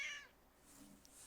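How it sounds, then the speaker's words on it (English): A cat meows once, a short, fairly faint high cry from a little way off, followed by quiet room noise. "there's still a cat up there screaming his little head off"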